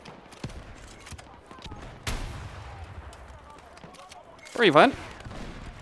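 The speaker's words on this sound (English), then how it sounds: "I'll just keep firing rockets." Rocket launches and gunfire ring out in the video game Battlefield 6 during a Breakthrough defense match, several sharp booming shots spread across the clip and a louder blast near the end, with a player talking over the action.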